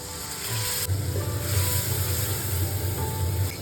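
Dried loitta fish fries in a pan with turmeric and chili powder after a splash of water, giving a steady close sizzle and hiss that runs without a break.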